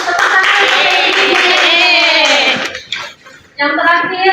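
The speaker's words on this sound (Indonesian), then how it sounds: "Tepuk tangan." A short burst of dense clapping from a classroom of students for a classmate, lasting a couple of seconds before breaking off into quieter scattered sounds and a brief return.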